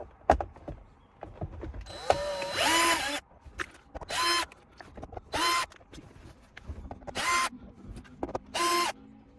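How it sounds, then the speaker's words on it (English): A powered screwdriver whirs in several short bursts, each one to two seconds long, while screws are undone on a Lexus GS armrest. Quieter clicks and handling noises fill the gaps between bursts. "I'm gonna undo these screws, and I'm gonna try to put this one on."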